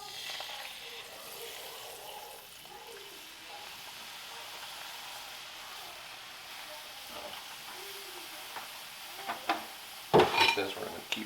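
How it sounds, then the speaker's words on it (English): Milk is stirred into rabbit fry drippings in a pan, giving a soft steady simmering hiss, then louder metal scrapes and clinks of a utensil against the pan near the end, close by with no voices. "This, we're going to keep stirring this."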